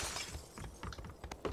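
A glass window shatters in the shooter game PUBG, a bright crash followed by scattered tinkling shards and clatter, loud and close against a noisy background.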